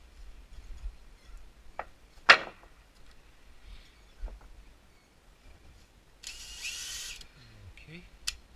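A power drill fitted with a cabinet hinge bit gives a short whir and sharp spin-up bursts, with a longer buzzing run near the end, between quiet gaps and faint handling noises.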